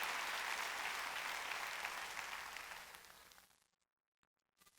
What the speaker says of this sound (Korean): 박수 치라고 해요